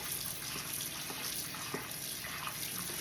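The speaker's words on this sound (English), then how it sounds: "And just let the water keep running." Tap water runs steadily into a kitchen sink during dishwashing, a continuous broadband hiss with a few faint clinks, close and unbroken throughout.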